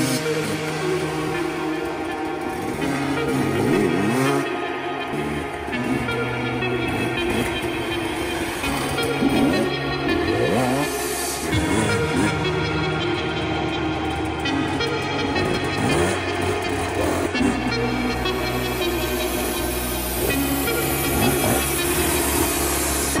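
A 2021 GASGAS EC 300 dirt bike ridden hard, its two-stroke engine droning loudly and continuously while revving up and down, with a shift in pitch near the end.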